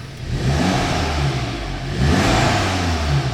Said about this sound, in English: So we'll give it a little rev, let you hear it.